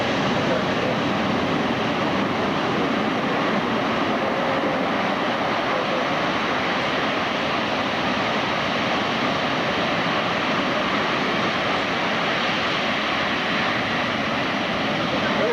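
Fixed-wing aircraft performing a very short landing, its engine drone a steady, loud broadband roar that continues without a break.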